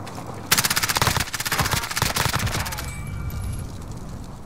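Rapid automatic gunfire rattles in a Warzone match, a loud close burst of repeated shots for about two seconds followed by fainter distant firing, with no speech over it.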